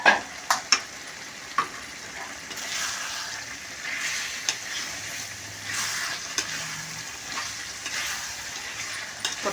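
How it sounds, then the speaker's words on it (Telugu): Prawns coated in chili powder sizzle in hot oil in a pan while being stirred, a continuous frying crackle broken by sharp clanks and scrapes of the spoon against the vessel. "ఇందులో ఇప్పుడు నూనెలో దేవి పెట్టిన రొయ్యలు వేస్తున్నాను."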